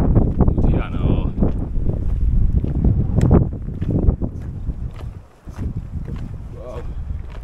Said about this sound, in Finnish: En tiedä kuuluuko mikrofoniin mitään kun täällä tuulee